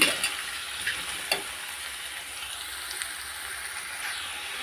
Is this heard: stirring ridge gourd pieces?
yes